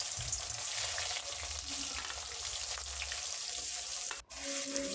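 Chopped onions frying in oil tempered with bay leaf, dried red chilli, whole cumin and whole garam masala, a loud steady sizzle with stirring scrapes and a brief dropout near the end.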